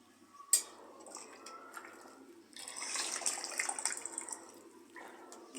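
Hot water runs from a kitchen tap in a home kitchen, a steady hissing stream that swells louder midway through, with no talking over it.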